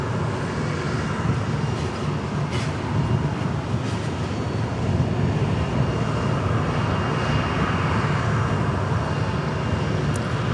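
A Southwest Airlines jet at Dallas Love Field, its engines producing a steady, loud broadband roar that holds level and continuous for the whole stretch, with no talk over it.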